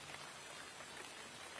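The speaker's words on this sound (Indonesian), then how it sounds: "Hujan lagi." Steady rain falling, a dense even hiss of drops that is faint and continuous throughout with no voices.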